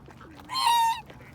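A Chinese goose lets out a single loud, nasal honk lasting about half a second, close by, with quiet background before and after.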